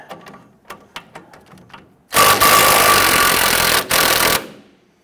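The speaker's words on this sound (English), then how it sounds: "So we're going to use our 18mm socket." A loud, continuous mechanical whir of an 18mm socket on a power tool loosening a shock end link bolt on a 2005-2021 Nissan Frontier, running steadily for about two seconds with a brief dip, preceded by light clicking and ratcheting taps.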